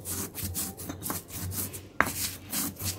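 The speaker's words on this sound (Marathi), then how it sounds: "अशा पद्धतीने आता वाटणामध्ये मीठ घेतल्यास ते पटकन बारीक होतं, अगदी सुंदर असं बारीक करून घेऊयात हे आपण" Spice paste gets ground by hand with salt to make it fine, a close rhythmic back-and-forth rubbing of stone on stone with one sharp knock partway through.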